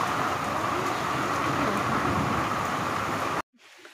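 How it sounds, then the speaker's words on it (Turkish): Heavy rain, with hail, pours down steadily in a garden during a severe storm, a dense, loud roar with low rumbling mixed in, close and continuous before cutting off abruptly near the end. "gerçekten çok ciddi bir şekilde yağmur halen yağmaya devam ediyor"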